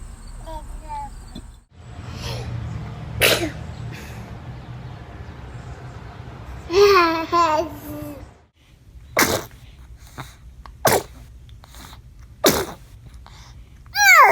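A baby sneezes several times in small, sharp bursts spread across the scene, with adults talking softly between the sneezes.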